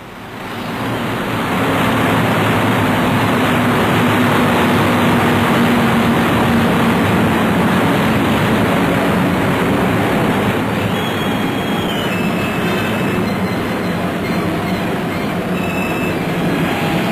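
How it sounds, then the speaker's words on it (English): Spitfire fighters fly overhead as an escort to Blenheim bombers during a wartime flight, a loud, steady droning roar that swells in and holds without a break. "And here come the Spitfires, like a swarm of hornets."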